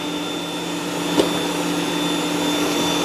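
ECOVACS DEEBOT X2 Omni robot vacuum and mop starting to clean, a steady close whirring hum with one brief click just after a second in, constant and unbroken throughout.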